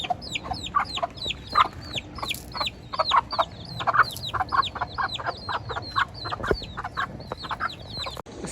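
Silkie chickens clucking close by on a backyard property, a busy run of short, repeated clucks and chatter from several birds, overlapping in a quick, uneven rhythm.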